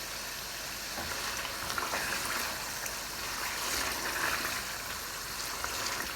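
A light splash of water hits mutton koftas frying in a pan, setting off a faint, continuous hiss and sizzle with small bursts of crackling.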